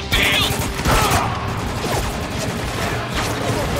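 Gunfire in the war shooter Spec Ops The Line, dense overlapping shots and crashing impacts under loud game audio, with voices talking throughout.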